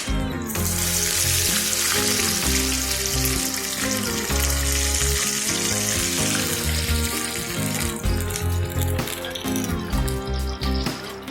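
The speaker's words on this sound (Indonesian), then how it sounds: "terus kita siram atau kita masukkan air." Loud steady sizzling and hissing from a hot pan of browned onions as water hits it, continuous throughout with bubbling crackle and no voices.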